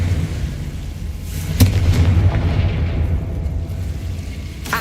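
Confringo fire spell exploding in the Hogwarts Legacy video game: a sharp blast around the middle, then a heavy rumbling roar that lingers under a constant low hum, with a second crack at the end.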